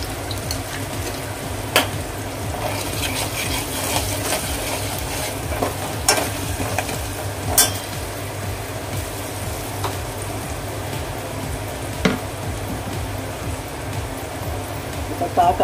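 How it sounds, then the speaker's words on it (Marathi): Asafoetida and turmeric frying in a pan for kadhi pakoda, a steady low sizzle with occasional spoon clinks, heard under someone talking. "आता आपण हे व्यवस्थित असं फ्राय करून घेऊया."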